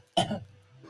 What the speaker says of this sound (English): you just be coughing like a son of a bitch, bro